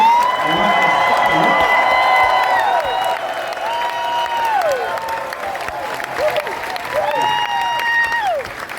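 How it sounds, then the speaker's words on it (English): Concert crowd at a band's final show applauding and cheering for the band's crew, a dense sustained roar of clapping with whoops and whistles rising over it, loud and close throughout. "Let's hear it for our crew."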